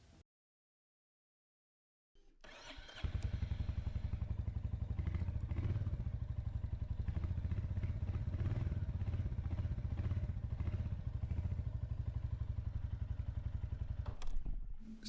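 A motorcycle ridden with a helmet-mounted action camera gives a steady, loud engine drone mixed with wind buffeting and rattles, starting after a brief silence.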